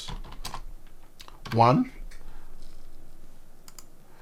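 Fingers tap quickly on a computer keyboard while entering data into an Excel 2016 spreadsheet, producing a steady patter of light clicks. A voice briefly cuts in over the typing.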